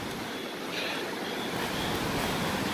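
A major mountain river rushes in a steady, loud broadband roar close by on a trail, with no voices over the constant water noise.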